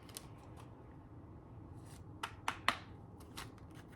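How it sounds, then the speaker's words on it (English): A deck of tarot cards is shuffled quietly and close by, with soft riffling and a few sharper card snaps toward the end against a faint background. "I'm going to shuffle this just once."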